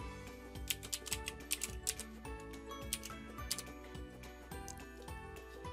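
Quick bursts of computer keyboard typing as a short search term is entered: irregular, close key clicks over a steady musical background.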